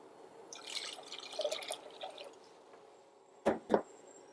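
A soft trickle of water pours into a pot of pickling brine with vinegar for a couple of seconds, then fades, followed by two short, close splashy knocks near the end.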